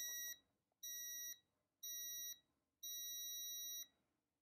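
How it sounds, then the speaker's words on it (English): An interval timer bought on Amazon gives four loud, high-pitched electronic beeps: three short ones and a longer final one, evenly spaced, alone with faint room noise between them. "Let's have a listen to this timer."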